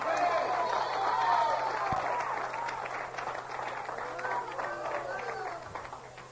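A church congregation claps hands in praise during a sermon, a dense patter of applause rising loudly and then thinning out, mixed with shouting voices and cries from the crowd.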